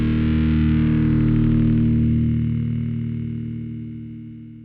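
A single distorted electric guitar chord through a Rocktron Chameleon 2000 rack preamp set for a warm, dark tone rings out thick and dark, sustaining and slowly fading over a few seconds, heard alone.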